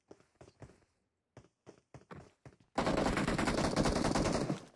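Gunfire in the mobile battle-royale game PUBG Mobile: a string of separate, spaced shots gives way to a loud, sustained burst of rapid automatic fire, close and dominant with no talk.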